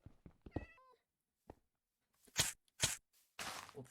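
A cat meows in Minecraft, several short blocky mews and soft footstep taps in the game world, with a few louder bursts of noise near the end.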